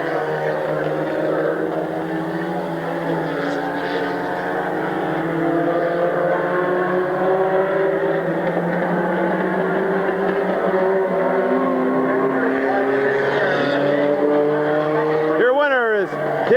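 Race cars circle Midvale Speedway on a Sunday special, engines droning loud and steady with rising and falling pitch as they pass, a near car sweeping by sharply at the end while a track announcer talks over the noise.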